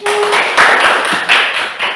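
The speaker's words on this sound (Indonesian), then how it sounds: "Oke, tepuk tangan." A small class claps in uneven bursts, loud and close, with short pauses between the rounds of applause.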